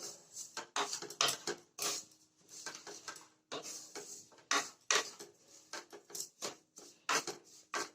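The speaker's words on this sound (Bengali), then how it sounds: "গ্যাসের ফ্লেমটা কমিয়ে দিয়ে সুজিটাকে নেড়ে চেড়ে একটু ভাজা ভাজা করে নেব।" Semolina is stirred while frying in a pan over a low gas flame. A utensil scrapes and clinks against the pan in close, irregular bursts separated by short pauses.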